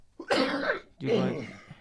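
Two harsh coughs close to the microphone, one right after the other, with a short pause between them.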